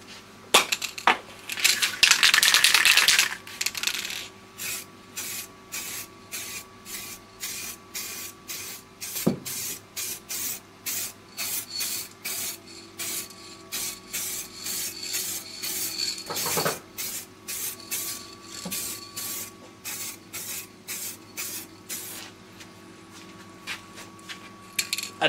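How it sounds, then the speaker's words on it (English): An aerosol can of spray paint lets out one loud, sustained hiss in a DIY foldable spray booth with its extractor fan running. Afterward, a steady rhythmic ticking and soft whir carry on alone. "and give it a spray"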